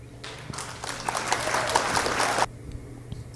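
Light applause from a small audience at a bowls match breaks out after a good shot, a steady patter of claps that rises, holds for about two seconds and then stops abruptly.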